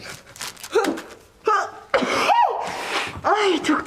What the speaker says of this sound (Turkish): Hapşırınca ağzımızı kapatmamız lazımmış.